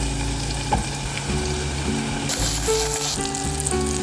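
Sliced banana fries in butter in a pan, a steady close sizzle and crackle with occasional stirring sounds and no voices.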